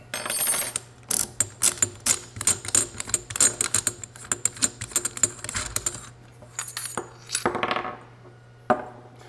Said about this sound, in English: with the smaller side of the wrench, use that to really crank down this nut